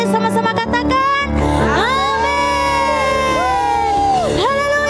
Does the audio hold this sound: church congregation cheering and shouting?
yes